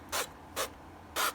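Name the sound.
spraying olive oil onto chicken wings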